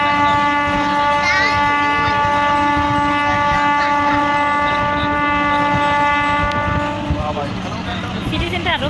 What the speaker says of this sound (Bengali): তো আমরা ট্রেনে উঠে পড়েছি